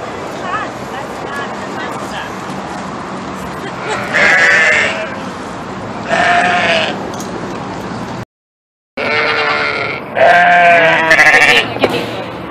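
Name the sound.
goat bleating at a petting zoo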